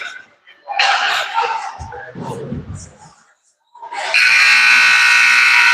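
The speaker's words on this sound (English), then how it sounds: "And that's the buzzer for the second period." A loud, steady end-of-period buzzer sounds at a high school ice hockey game between the STMA Knights and Litchfield Dragons, holding through the last seconds after an announcer speaks over arena noise.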